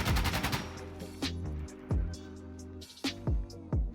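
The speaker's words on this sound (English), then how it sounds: "we're shooting the AK-74 full auto" AK-74 fired full auto with no foregrip in Insurgency: Sandstorm: an opening burst of rapid, loud shots, then several sharp, separate reports, each trailing off in an echoing tail, with no one speaking.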